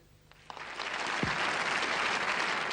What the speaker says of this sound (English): united the conference in rapturous applause